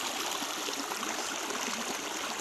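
A river in the countryside near Nifulinah hamlet and Kuatnana village, rushing steadily as broadband water noise that stays loud and even throughout with no voices.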